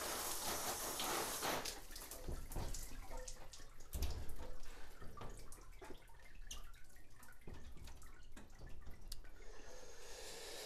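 Bicycle rinsed with water, a continuous spray splashing and hissing against the frame with dripping and occasional thuds, close and steady throughout.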